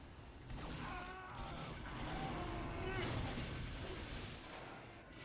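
Sentry turret fire in Team Fortress 2 rattles in a dense, loud stream of gunfire under excited talking throughout.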